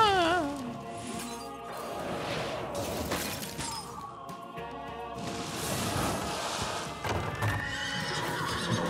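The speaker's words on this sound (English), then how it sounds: "That's a horse?" A horse whinnies loudly at the start, followed by clip-clopping hooves and crashing, clinking effects from the Hearthstone video game, all fairly close with no talking over them.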